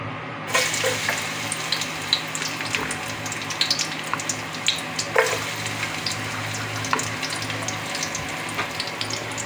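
Garlic sizzling and frying in a hot casserole pan, a steady crackling hiss with occasional sharper pops and stirring clinks, close and continuous with no talk.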